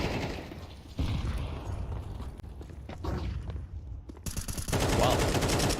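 Automatic SMG fire in Counter-Strike 2 during a tournament match, dense bursts of rapid shots with a louder, sustained volley toward the end, mixed with game effects and background noise.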